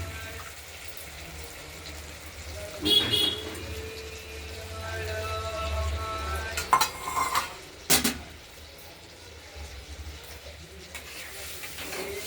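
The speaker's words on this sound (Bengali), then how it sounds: "মশলাটা আমরা তুলে দিয়েছি, এবার কষানোর জন্য হলুদের সঙ্গে মিশিয়ে দিয়ে দিই" Spice paste and turmeric are stirred in a pan for a Bengali katla fish curry with potato, tomato and coriander, with scraping spoon and clinking metal knocks over a low background hum.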